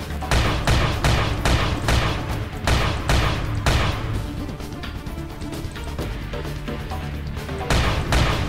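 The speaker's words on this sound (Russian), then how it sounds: "Ого, бочки-то взрываются, там что-то." Barrels explode in the shooter game Chrome: SpecForce amid heavy gunfire, giving a dense run of loud booms and sharp blasts, close and repeated, with a brief lull before more bursts.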